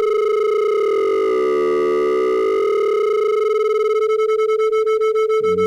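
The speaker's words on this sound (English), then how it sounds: "Those are beats." Two nearly matched pure tones around 440 Hz sound together, one steady pitch whose loudness swells and fades in slow beats that quicken toward the end, with no talking.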